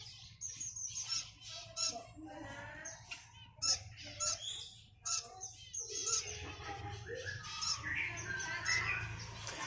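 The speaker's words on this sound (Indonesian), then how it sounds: "Ini adalah burung diamond dove" Female diamond dove in a cage, giving a series of thin, high chirps and calls that come in short bursts with small gaps, fairly faint against a low background hum.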